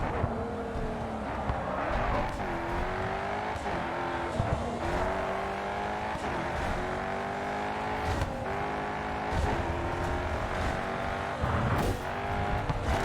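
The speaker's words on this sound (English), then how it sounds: "Man, this shifting sound sounds like really heavy." Race car engine in GRID 2 roaring continuously at high revs, with repeated gear shifts dropping and climbing the pitch in quick succession, loud and close with occasional tire noise, no talk.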